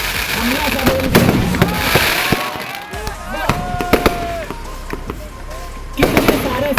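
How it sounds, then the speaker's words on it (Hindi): Fireworks crackle and boom at the Dewa Sharif fair, a dense barrage of sharp bangs and rapid pops with whistling rockets rising, loud and continuous, over a festive crowd murmur. "ऊपर आतिशबाजी, नीचे आतिशबाजी, बीच में आतिशबाजी, सब जगह आतिशबाजी।"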